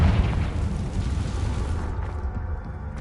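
Confringo explosion spell in the video game Hogwarts Legacy, a loud, sustained booming blast that rumbles continuously and fades slightly toward the end.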